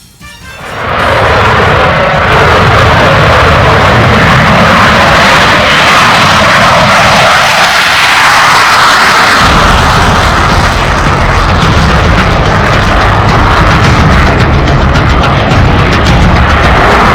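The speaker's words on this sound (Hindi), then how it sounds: "आसमान में राफेल जेट फाइटर और नीचे प्रधानमंत्री नरेंद्र मोदी।" A Rafale fighter jet flying overhead, heard as a loud, sustained roar that holds steady at close range for the whole stretch, with no talk over it.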